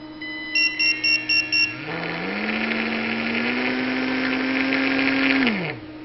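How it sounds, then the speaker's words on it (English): A hobby robot's electric motor control: a few short electronic beeps, then a motor whirs up, holds a steady whine that climbs slightly in pitch, and spins down after about four seconds, close by. "Maybe you can hear that camera, or the motor."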